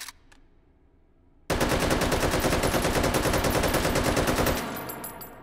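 Sustained automatic fire from an AKM rifle in the VR shooter Hot Dogs, Horseshoes & Hand Grenades: after a quiet pause with a couple of faint clicks, a loud, rapid, steady burst of shots runs for about three seconds, then fades into echoing tail.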